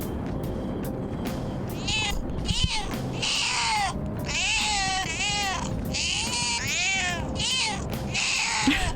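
Morgana, the cat character in the game Persona 5 Royal, lets out a series of loud, shrill screeching meows, about eight harsh cries repeating in quick succession over a steady game soundtrack.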